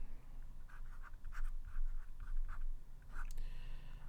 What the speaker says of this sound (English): let me just write the product rule over here.